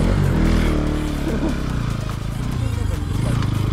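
An off-road motorcycle labours through sand, its engine rumbling loud and close with uneven revving and rough throttle pulses, while a voice talks over it.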